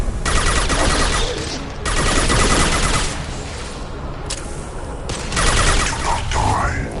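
Impact shot and rapid gunfire in Mass Effect 2: loud, sustained bursts of automatic fire in several volleys, with sharp cracks and a brief gap between bursts, close and dominant.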